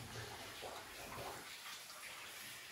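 Water pours steadily out of a flooded abandoned gold mine, a continuous broad rushing and gushing wash filling the space, fairly loud and uniform with no voices.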